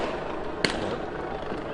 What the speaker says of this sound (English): there's fireworks in the back over there as well